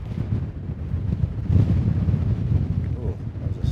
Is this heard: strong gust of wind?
yes